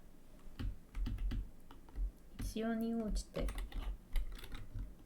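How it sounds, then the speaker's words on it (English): Computer keyboard typing in quick irregular bursts of clicks, close and moderately loud, with a brief voice cutting in partway through. "The keyboard noises are fine."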